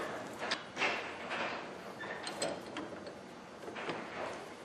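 A homemade battery cable terminal for a round-post car battery is clamped and squeezed in a vise, giving close mechanical creaks, ratcheting clicks and metal-on-metal knocks in an uneven rhythm.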